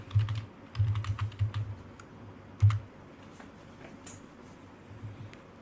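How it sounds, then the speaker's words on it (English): Fingers type a short burst on a computer keyboard, a quick run of close, clicky keystrokes followed by a few scattered taps, heard alone without speech. "So in your URL, just type OBS"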